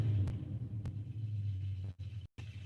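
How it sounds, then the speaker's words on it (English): A truck engine rumbles steadily in the background, a low continuous drone that holds for a couple of seconds before cutting out briefly near the end. "There's my brother's truck in the background."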